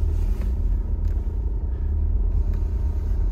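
A 1981 Corvette engine idles steadily at low RPM, a close, loud, continuous low rumble that holds even throughout, with no talking.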